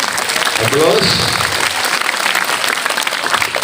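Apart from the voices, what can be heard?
audience applause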